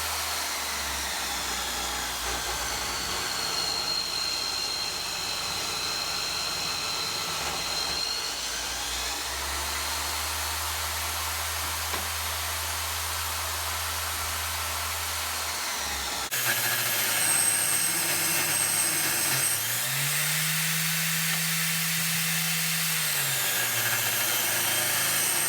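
A power saw cuts small blocks from a 2-inch-thick walnut board in a woodshop, its motor droning loudly and steadily through two long passes, with the pitch dropping as the blade bites.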